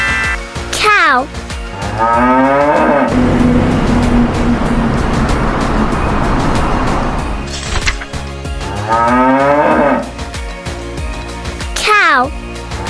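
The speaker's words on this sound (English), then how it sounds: "Cow." Farm cow lowing in long, loud drawn-out moos, two main calls separated by a noisy stretch, set against a steady cheerful music bed from a toddler animal sounds lesson.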